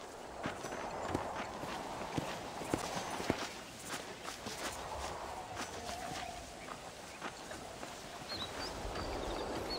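Horse hooves clip-clop steadily in the video game Red Dead Redemption, faint and even-paced over a soft ambient background.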